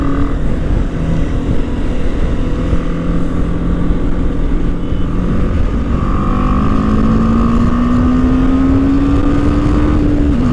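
A motorcycle cruises fast along a highway, its engine a steady drone whose pitch slowly climbs as it speeds up, wrapped in constant loud wind rush and no talking.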